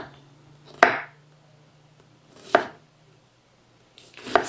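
Knife chopping through an onion on a board for mushroom and onion fritters: three sharp, separate cuts spaced a couple of seconds apart, close and clear, with quiet kitchen background between them.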